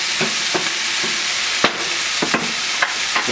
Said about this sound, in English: Just want to stir this in too.